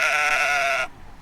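A sheep in Carding Mill Valley on the Long Mynd lets out one loud, sustained, wavering bleat close by, which stops abruptly and leaves quiet outdoor air.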